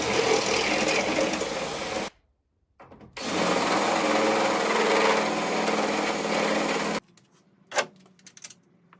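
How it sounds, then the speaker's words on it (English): Power drill boring a pilot hole into a Jeep chassis for budget rock sliders, a loud steady whine running about two seconds, stopping briefly, then running again for about four seconds before going quiet with a few faint knocks. "And the same thing, first the pilot hole."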